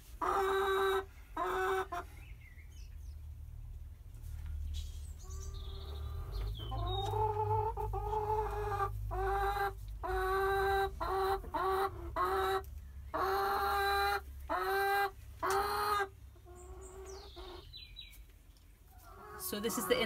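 Hens inside a backyard hen house, with two sitting on the nesting box, cluck repeatedly at close range in a steady run of short, throaty calls, with occasional louder squawks.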